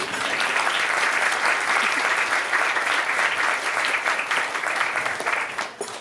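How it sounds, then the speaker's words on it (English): Continuous, dense audience applause at a film festival directors' panel, steady and full throughout before thinning at the very end. "You can applaud, yes."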